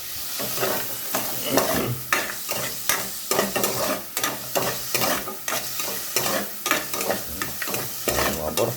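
Vegetables are stirred as they fry and brown in a pan, with a steady loud sizzle under repeated close scrapes and knocks of the spatula throughout.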